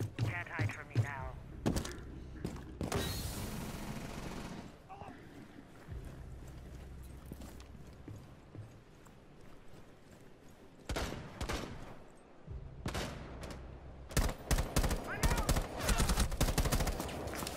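Gunfire rattles through a Rainbow Six Siege match in loud bursts, a sustained volley early on and more clustered shots later, separated by quieter stretches of game ambience.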